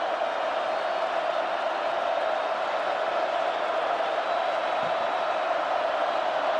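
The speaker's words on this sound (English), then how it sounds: "They got the crowd involved now." Steady, even roar of a 90,000-strong stadium crowd cheering at a USC football game, a dense unbroken wash of noise at constant loudness.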